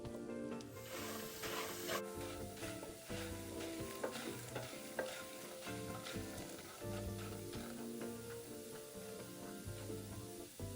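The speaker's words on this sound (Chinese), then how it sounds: "油热后，再将芋头粒倒入，低火慢慢煎至表面金黄" Taro cubes frying in a few spoonfuls of oil over low heat, a soft continuous sizzle broken by repeated stirring and scraping in the pan, close and steady without voices.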